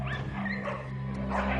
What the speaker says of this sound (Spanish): grandes manadas de perros callejeros viven, comen y se pelean en los vertederos de basura